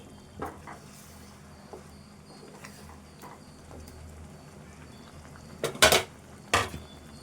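Chicken cooking with chili in a pot is stirred by hand, with faint scrapes through quiet background hiss and a few sharper metal clinks of the spoon against the pot near the end.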